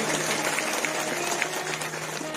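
An audience claps during a Bhagwat Katha religious gathering, a soft, distant patter of many hands spreading through the hall at low level, with faint talk mixed underneath.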